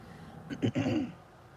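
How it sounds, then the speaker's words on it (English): A single short throat clearing, a rough guttural rasp up close in an otherwise quiet room. "see that clearing your throat, that's part of it"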